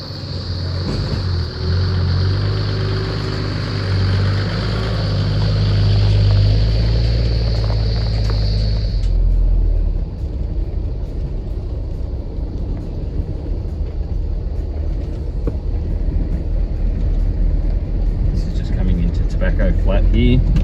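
A Toyota 80 Series 4WD drives along a dirt track toward a bush hut and camping area with a steady low engine rumble and road noise, and a high whine fades partway through as someone talks over it.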